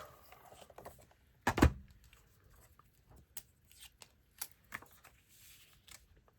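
A paper trimmer cuts paper for scrapbooking: one loud sharp slicing snap, followed by softer scattered clicks and paper rustles, close and otherwise quiet.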